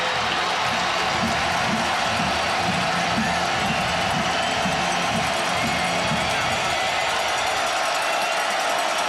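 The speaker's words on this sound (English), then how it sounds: "And the crowd is back in it now." A football stadium crowd at a Texas Tech versus Kansas State Big 12 college game cheers and roars steadily, a dense, sustained wash of noise from many voices throughout.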